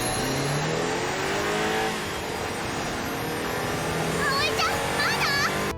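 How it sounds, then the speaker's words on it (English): Anime flying brooms revving like car engines: a steady engine roar that rises and falls, with a high-pitched voice cutting in near the end. "the brooms rev like automobiles"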